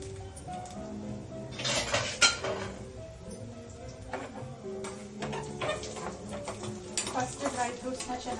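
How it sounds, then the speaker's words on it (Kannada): Dry fruits frying in a steel pan, with repeated metallic clinks and scrapes of stirring over a light sizzle, close by. "ಫಸ್ಟ್ ಡ್ರೈ ಫ್ರೂಟ್ಸ್ ನ ಚೆನ್ನಾಗಿ ಫ್ರೈ ಮಾಡಬೇಕು"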